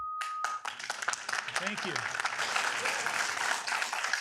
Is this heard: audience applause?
yes